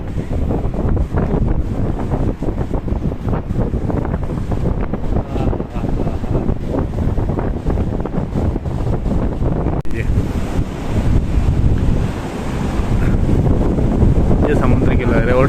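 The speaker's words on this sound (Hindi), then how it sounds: "चलो सीधा आप समुद्र की आवाज़ सुनते हैं आप।" Sea waves surge and break steadily along the Dwarka coast, mixed with gusty wind buffeting the microphone, loud and continuous throughout with no clear pauses.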